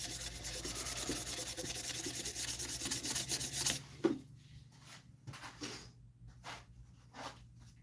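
Sandpaper rubbed against a spinning wood-turned piece on a lathe, working through 150, 240 and 320 grits. A steady dense rasp runs for about four seconds, then breaks into short, quieter scuffing strokes.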